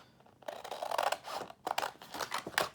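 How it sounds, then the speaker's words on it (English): Scissors snipping through paper along a scored line, a run of crisp, close cuts in uneven bursts, loud and alone without talk. "So I'm gonna grab my scissors and I am just going to"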